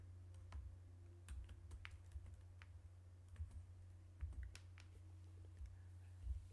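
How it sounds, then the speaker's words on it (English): Soft, light typing on a computer keyboard, entering text into embroidery software. Sparse, uneven clicks with a few louder taps sit over a quiet, steady background hum, and no one speaks. "type inside the square box and write love"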